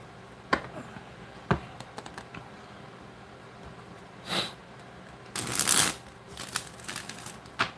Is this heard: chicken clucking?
no